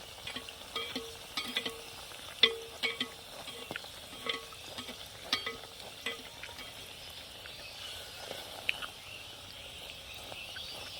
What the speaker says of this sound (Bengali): এইভাবে করে সব লুচিগুলো ভেজে নেব